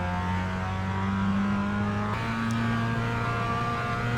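A Mazda MX5 race car at Silverstone International drones steadily at high revs from inside the car, its engine note holding nearly constant through the whole stretch with a small shift midway, no talking.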